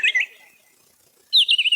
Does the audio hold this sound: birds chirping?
yes